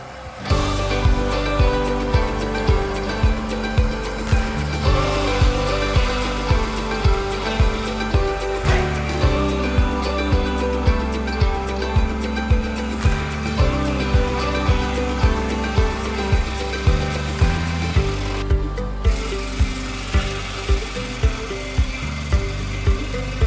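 A backyard sawmill runs loudly with its feed rollers engaged, a dense mechanical drone with a steady rhythmic pulse repeating about once per second throughout, close and unbroken.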